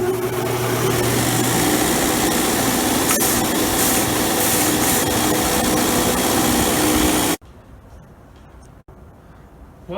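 A belt sander held flat on a workbench runs steadily with a loud, continuous motor whine and belt hiss, then cuts off abruptly to leave faint room noise.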